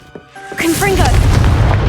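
A loud booming blast from the Confringo spell in the Hogwarts Legacy video game follows a spoken incantation, with a heavy rumbling explosion and crackling debris that swell and sustain.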